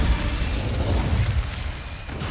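An Incendio fire spell is cast in Hogwarts Legacy. It produces a loud, rumbling burst of flame that swells and crackles with a whooshing roar, holds steady for about two seconds, then eases slightly.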